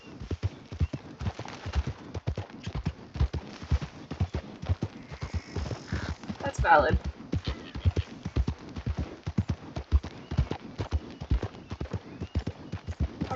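In Red Dead Redemption 2, a horse trots steadily, its hooves clip-clopping in a close, unbroken rhythm for several seconds, with a brief spoken comment partway through.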